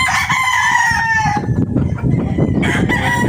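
A battle cock rooster at a game farm in Batangas crows loudly and close by in one long drawn-out call, followed by clucking and farmyard noise.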